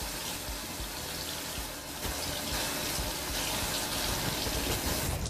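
Sponges being rinsed under a running tap, making a steady gush and splash of water close by that grows slightly fuller partway through. No voices are heard.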